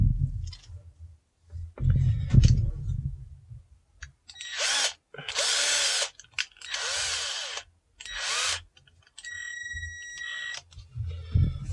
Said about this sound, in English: So bring our drill back again.